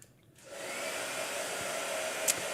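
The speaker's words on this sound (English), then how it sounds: "Yeah, blow dryer." A blow dryer runs steadily and fairly close after switching on, holding a constant whooshing whine with no talk over it.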